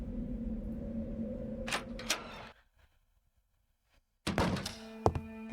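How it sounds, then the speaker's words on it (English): A key turns in the lock of a front door, with a couple of sharp clunks from the lock, a brief silence, then a clattering thud as the door swings open, all fairly quiet and close. "With very little effort, the key unlocked the front door"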